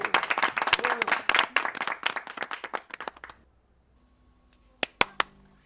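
An audience in Burkina Faso greets a singer with loose, uneven clapping that thins out and stops after about three seconds, followed by near silence and a few sharp isolated claps.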